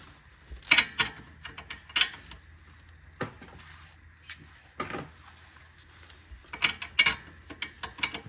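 A socket wrench ratchets on the rear shock bolts of a 2017 Toyota Prius Prime in short, close clicking bursts separated by pauses, with occasional metallic clanks from tools.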